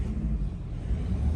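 A black 2009 Land Rover Discovery 3 with a 2.7 TDV6 diesel and automatic gearbox runs with a steady, deep engine rumble, close and continuous with no sharp rise in pitch.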